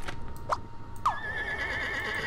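A horse in the video game Scribblenauts Unlimited gives a short, bright whinny. Two brief squeals come first, then a longer, wavering neigh that trails off, with faint background game sounds underneath.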